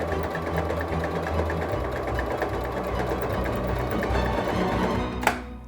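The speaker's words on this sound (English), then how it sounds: "More sewing!" A sewing machine runs steadily, zigzag-stitching a long seam in a handmade backpacking blanket, its close, continuous mechanical whir ending in a brief sharp click with no talking.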